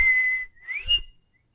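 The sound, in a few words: person imitating a whistle from the cartoon Doug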